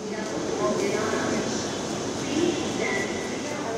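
A Dhaka Metro Rail train pulls into Karwan Bazar station with a steady, broad rumble and whoosh that holds throughout, while a voice talks over it.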